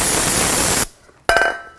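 Brake parts cleaner hisses from an aerosol can onto the caliper slide pins of a 2004-10 Toyota Sienna: a loud, steady spray that stops abruptly, then a second short burst after a brief pause.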